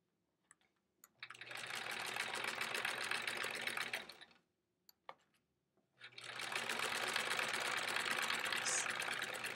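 Home sewing machine fitted with a walking foot stitching through layered quilt-as-you-go fabric and sashing, two long steady motor runs with a brief pause between, close and alone.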